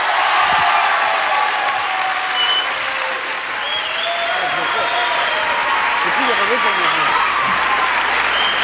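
French television studio audience gives warm, sustained applause welcoming two guests, a dense continuous wash of clapping with faint voices underneath.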